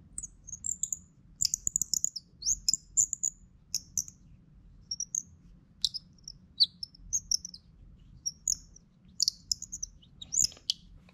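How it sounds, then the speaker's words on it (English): A small handheld bird call gives short, high tweeting chirps in irregular bursts, close and fairly loud over a quiet low hum. "this little, I guess it's called a bird call"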